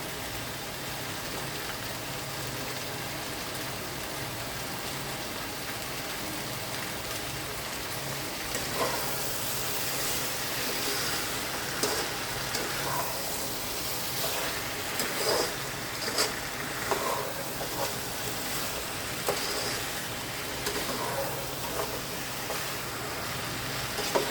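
Mutton pieces sizzling steadily in hot oil in a pan, a dense continuous crackle and hiss that grows slightly livelier partway through, with no voices over it.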